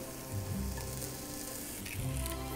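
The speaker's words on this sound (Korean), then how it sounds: "약한 불에서 먼저 양파를 볶아주세요. 양파가 투명해지면 버섯을 넣고" Onions and mushrooms sautéing in olive oil in a pan over low heat, a soft steady sizzle with faint stirring scrapes, heard close and quiet.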